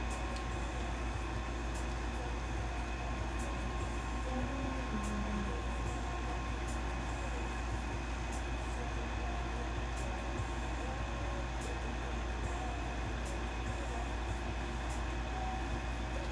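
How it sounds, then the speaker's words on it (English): A room air conditioner runs steadily, giving a constant, even droning hum at moderate volume with no talking over it. "all you hear is my AC"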